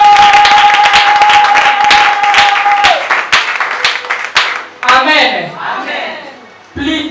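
Church congregation applauding, dense sustained clapping mixed with cheers and shouts, loud and close, then breaking into scattered claps and voices before fading.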